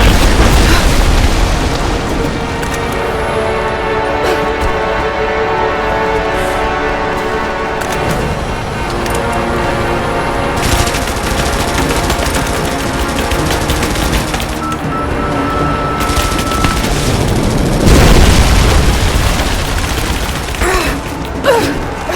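Heavy bombardment in Rise of the Tomb Raider, with loud booming explosions and bursts of gunfire rolling over a constant rumble and a large blast near the end.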